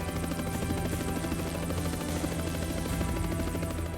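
Russian military helicopters fly in waves toward the Ukrainian border, their rotors making a loud, steady, pulsing drone that fills the whole stretch without any speech.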